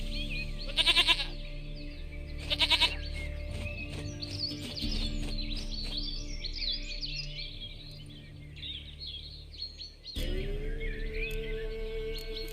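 A goat in The Witcher 3 gives two loud, quavering bleats near the start, followed by chirping birds and an outdoor ambience, then a shorter cry and a low tonal hum near the end.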